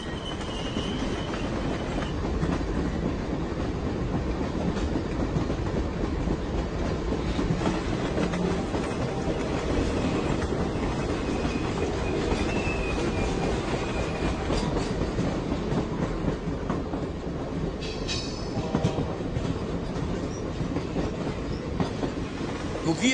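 Train rolling along the rails, a steady continuous rumble with clattering wheels and occasional faint squeals, sustained at fairly close range throughout.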